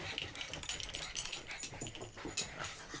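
A dog makes soft, repeated whimpers and yips, close and fairly quiet, in a series of short high-pitched cries.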